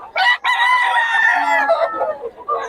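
A rooster crows loudly and close by, one long strained cock-a-doodle-doo with a short break near the start, trailing into softer clucks at a busy market in Bocaue.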